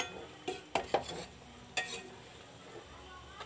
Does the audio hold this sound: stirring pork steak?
yes